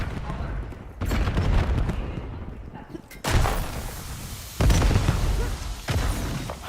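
Heavy booming blasts from a multiplayer shooter match as a bomb goes off, loud explosive bursts repeating every second or so over a constant roar of battle noise, with players talking over it.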